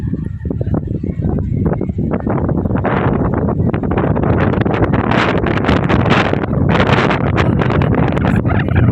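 Strong, steady wind buffets the microphone on the track at GBK Senayan stadium at night, a loud continuous roar with gusting rustle and no voices.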